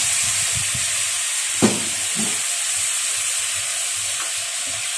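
Pork bones frying in a pan with pineapple, with a little water added: a steady sizzle and hiss of frying throughout, a brief louder burst near the start as the water meets the hot pan, then continuous fainter crackling.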